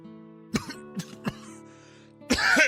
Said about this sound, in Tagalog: nag-aalala talaga ako dyan sa ubo mo